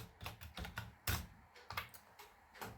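Quick, close keystrokes on a computer keyboard while working in an Excel spreadsheet, an irregular run of crisp clicks with one harder tap, no voice.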